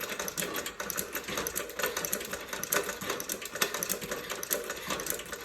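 A Singer 29-4 boot patcher sewing machine stitching with tension and stitch length set small, a steady fast mechanical clatter of needle strokes running continuously without pause.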